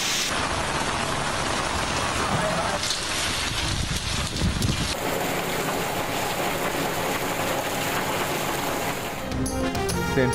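Rain falling steadily over a town in Sindh, a dense constant hiss with shifting intensity filling the whole stretch, recorded outdoors for a news report, with no voices.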